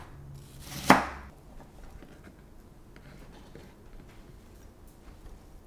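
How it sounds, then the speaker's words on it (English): A knife cuts once through food on a cutting board while slicing it into little wedges. A single sharp, close chop rings out near the start, followed by quiet room tone. "you just cut these into little wedges like so"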